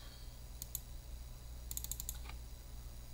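Faint keystrokes on a computer keyboard, a couple of isolated clicks followed by a short quick burst of typing over a low steady hum.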